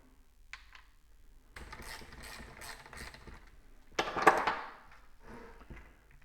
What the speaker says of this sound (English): We Go ahead and put the screws on the bottom. These will screw into the housing.